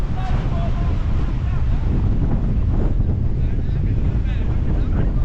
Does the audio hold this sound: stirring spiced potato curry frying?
no